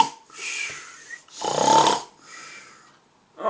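A character in the Drak animated series snoring loudly like a hippo: three long rasping snores, each with a harsh nasal rattle, close and loud, the last one starting as the clip ends.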